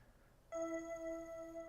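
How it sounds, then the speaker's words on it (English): A school bell in the visual novel If My Heart Had Wings sounds as one clear, quiet chime that strikes suddenly and then rings on with a steady, sustained tone. "It rang! The bell rang!"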